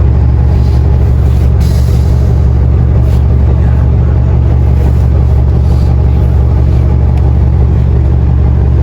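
Inside a moving city bus in Mississauga, Ontario, a deep, continuous engine rumble fills the cabin, loud and steady with faint passing clicks and rattles and no talking.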